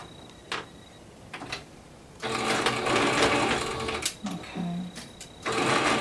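A sewing machine stitches a strap in quick start-stop runs: a short burst early, then a long steady whirring stretch and another after a brief pause, close and fairly loud.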